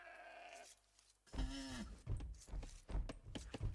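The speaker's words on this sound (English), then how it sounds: "sheep around here for Gabi." Sheep bleat once clearly in an Age of Empires II match, a short wavering call mid-clip, followed by game clicks and effects.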